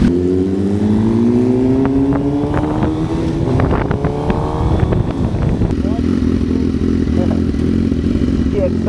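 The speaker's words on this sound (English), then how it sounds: "The exhaust, man, really good." A Suzuki GSX-R superbike's exhaust roars steadily at speed on a highway, its pitch rising and shifting through gears, with wind buffeting throughout.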